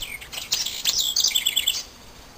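Small birds caught in a trap chirp and tweet in quick, high bursts, several overlapping calls close by and fairly loud, fading near the end with no talking.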